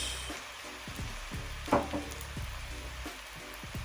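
Prawn fried rice fries in a pan with butter and soy sauce. A soft sizzle runs throughout, with a few scraping stir strokes and faint clatter over quieter background hum.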